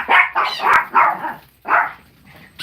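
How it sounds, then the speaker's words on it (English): Several small chihuahuas barking and yipping indoors, loud and close, in a rapid burst of sharp barks followed by a pause and a couple more barks. "Sorry for all the noise. There's 4 chihuahuas here."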